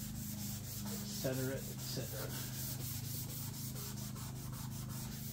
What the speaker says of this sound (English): we have cruised over this thing with a Scotch-Brite pad. Kind of evens things out.